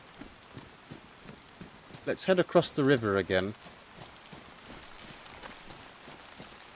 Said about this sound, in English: Wow, it really is raining.